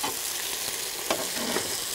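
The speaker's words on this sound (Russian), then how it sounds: "Картошечка жарится." Potatoes fry on a sadj pan with a steady, close sizzling hiss and a few faint stirring scrapes, with no talk.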